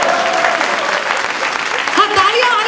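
An audience at a Hindi poetry recital, a kavi sammelan, claps loudly and steadily throughout, a dense crowd applause with a few cheers rising near the end.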